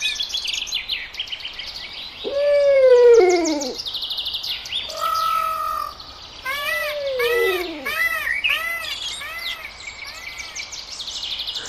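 Birds sing in the Chilkigarh forest, home to around 150 bird species: a lively mix of chirps, whistles and falling, arching calls, some close and clear, with quick repeated notes and softer calls behind them.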